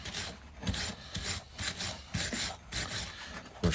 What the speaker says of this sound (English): Little wire brush here.